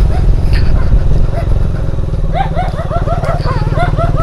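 A motorcycle rides along a road with a steady, loud engine drone up close, while dogs bark repeatedly nearby during the second half.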